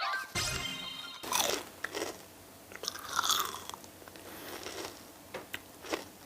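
Someone bites into crispy agar jewel candy, with sharp crunches followed by quieter chewing and crackling, close and intimate, with no talking.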